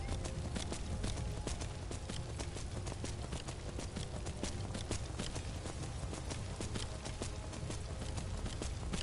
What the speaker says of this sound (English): ride through the country on a skeletal horse.